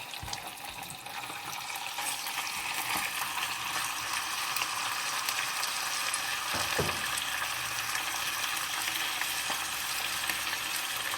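Chicken pieces frying in hot olive oil in a preheated skillet, giving a steady, close, loud sizzle with crackling and occasional stirring noises throughout, no talking.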